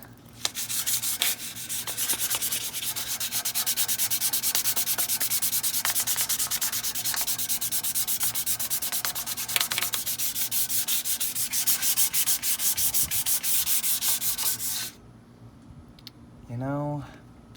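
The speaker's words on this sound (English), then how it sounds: "I started with a 600 grit on just this part of the tip right here, and it got it looking really smooth" Steady, continuous 600-grit sandpaper scraping against a metal exhaust tip on a 28-year-old Honda Civic EF, a dense gritty rubbing that runs for about fifteen seconds before stopping, followed by a brief quieter stretch.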